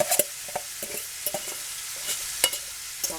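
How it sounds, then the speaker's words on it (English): Cooked rice being stirred in a hot pan for pork fried rice, with scraping spatula strokes and soft sizzling repeating at irregular intervals, close and moderately loud, with no talking. "I'm going to add that rice I cooked earlier today."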